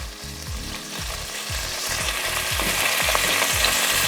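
Beef chuck for a braise browns in a hot pan with a steady, loud sizzle and frying crackle, while repeated scraping strokes from stirring it around come through clearly.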